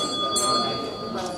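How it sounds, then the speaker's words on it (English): A bell rings to end a break at a community workshop, two brief bright strikes heard over steady room chatter and background murmur. "that was the bell"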